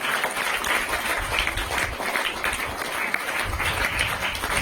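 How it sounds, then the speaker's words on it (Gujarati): Applause from an audience at an honouring ceremony for a woman being felicitated, a steady dense wash of clapping running throughout at moderate loudness with no voices. "આપણે તાળીઓના ગણગણાટથી આપણે વધાવીશું"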